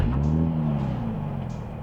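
A Nissan 370Z Nismo engine with valved exhaust fires up and settles into a steady, rumbling idle close by, with no one talking.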